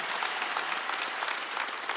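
A church congregation at a Wednesday evening worship service claps steadily, a dense, continuous wash of applause from many hands filling a large room with no pauses.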